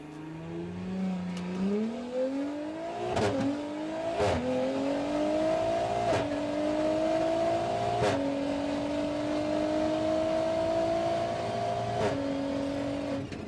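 A hybrid turbo car makes a quarter-mile drag pass, its engine droning loudly as it climbs through several gear shifts, each shift marked by a sharp break in the rising tone.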